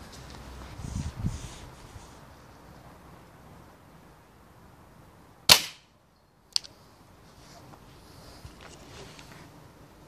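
A .22 air rifle fires a single sharp shot, loud and close, with a brief crack and fast decay, followed about a second later by a fainter impact snap against quiet outdoor background noise.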